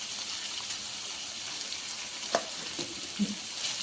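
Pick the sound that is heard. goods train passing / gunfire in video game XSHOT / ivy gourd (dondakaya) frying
ivy gourd (dondakaya) frying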